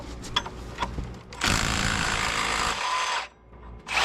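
Air impact gun driving a fastener during a Chevy Tahoe rebuild, a loud buzzing burst lasting over a second close by, after some knocks and clatter, then a short restart at the end.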